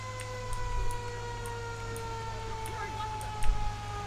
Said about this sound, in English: I kinda like the siren still, the American siren